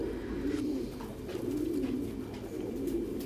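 Pigeons on a Vietnamese pigeon farm coo in low, rolling calls that repeat every second or so over a dense, continuous hubbub of many birds nearby, with no talking.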